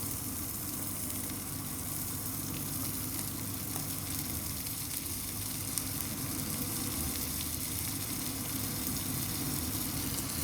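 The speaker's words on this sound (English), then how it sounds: "I don't know how long you're supposed to cook a steak for" A thick slice of steak frying in a pan gives a steady, close, even sizzle that carries on without pause, with no talking over it.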